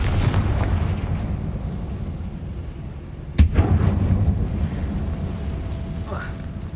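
A Confringo fire-blast spell in Hogwarts Legacy, one sharp, loud burst that erupts suddenly and then decays into a rumbling tail over steady low background ambience.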